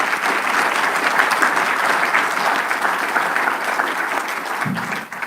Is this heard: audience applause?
yes